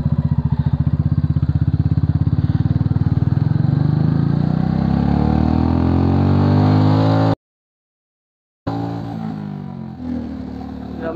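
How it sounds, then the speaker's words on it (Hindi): A Royal Enfield Classic 350 motorcycle engine runs in first gear with a loud, close, steady thumping idle that rises in pitch as it revs, then cuts out briefly before resuming more quietly. "उसके बाद स्टार्ट करी और ये डाला फर्स्ट गियर।"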